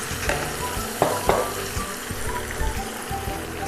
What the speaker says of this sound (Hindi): तो अदरक लहसुन हमने भून लिया है और थोड़ा सा पानी हम इसमें डाल देंगे जिससे ये जलेगा नहीं।